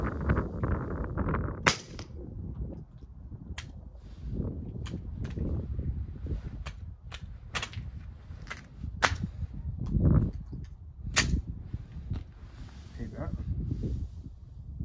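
Suppressed gunshots from a rifle with a Ballistics Advantage barrel fitted with an Osprey 45 suppressor, firing Norma 158-grain subsonic rounds. A series of sharp, spaced cracks sound close by, with people talking between them.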